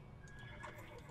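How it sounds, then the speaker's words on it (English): A horse in the western video game West of Loathing gives a short whinny with faint clip-clop, quiet and brief over low game ambience. "Hey, look at a horse."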